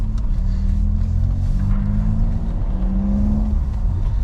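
A noisy little car's engine droning steadily while driving, a loud continuous low rumble with a slight rise and fall in pitch, up close with no talk over it.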